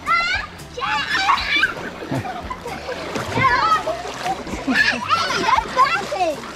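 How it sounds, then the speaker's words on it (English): Water splashing and splattering repeatedly during a water fight, with excited children shouting and talking over the constant splashes. "It's a water fight!"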